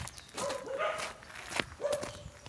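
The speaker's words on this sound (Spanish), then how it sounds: "un perro acá" A dog outdoors on a neighbourhood street gives a few short barks and yips, moderately close, mixed with footsteps of someone walking.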